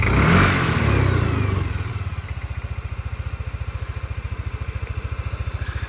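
A Yamaha NMax 125 ABS scooter engine settles from a brief rev into an even, quiet idle, its rapid steady pulsing heard up close with no one speaking.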